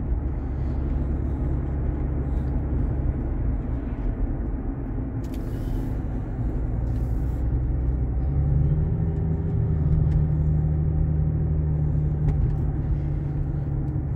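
A Range Rover Vogue 3.0 with about 471,000 km rumbles steadily with road noise, heard from inside the cabin. The pitch rises a little partway through as the vehicle speeds up.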